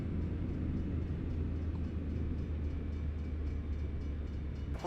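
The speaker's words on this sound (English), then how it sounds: "Oh, there's a train." A steady, loud low rumble of a train rolling past in American Truck Simulator, continuous and droning throughout with no talking.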